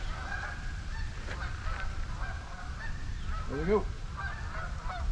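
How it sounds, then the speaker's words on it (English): Geese honk repeatedly at a damp truck campsite, the calls fairly close and rising over steady background noise, with a brief bit of talk. "Geese and a train."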